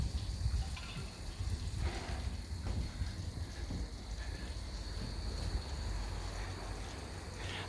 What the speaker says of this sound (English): they're emptying the water tank. I think. Yeah, I do that from time, flushing the water tank